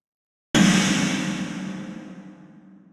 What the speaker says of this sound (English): I like to take that snare and do what I call a snare bomb.